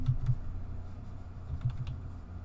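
Computer keyboard typing during a livestream, a few soft, scattered keystrokes in quick bursts over a steady low room hum, close to the microphone with no talking.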